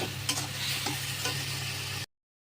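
Tamarind pickle with sugar and salt stirred in a pan, a close steady sizzle with scraping spoon strokes against the metal, ending abruptly in silence.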